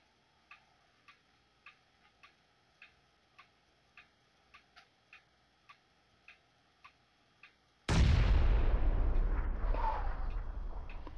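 A grenade explodes in PUBG: a steady series of soft ticking clicks gives way to a sudden, loud, close blast whose rumbling roar lingers to the end.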